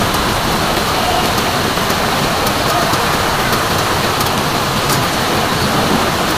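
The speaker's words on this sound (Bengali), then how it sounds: "বৃষ্টি হচ্ছে, তো রেগুলার বৃষ্টি হচ্ছে" Steady rain pours down over a vegetable garden where green chilies grow, a dense, even hiss of drops hitting leaves and surfaces that stays loud and constant throughout, with no voices.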